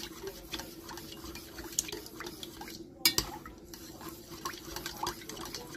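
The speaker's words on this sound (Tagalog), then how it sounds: "Haluin lang po natin." A spoon or whisk working through a chawan mushi egg mixture in a bowl, faint liquid swishing with light scattered clinks of metal on the dish and one sharper knock, quiet and close.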